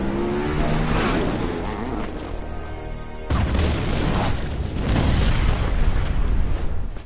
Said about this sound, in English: the Joker blows both Jason and his mother up in a fiery